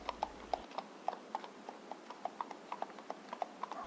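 Hooves clip-clop in a steady, even walking rhythm as a horse and rider move off, each strike crisp and distinct in a quiet setting.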